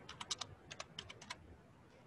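Typing on a computer keyboard while entering a search term, a quick burst of several soft key clicks in an irregular rhythm, close and quiet, with no talking.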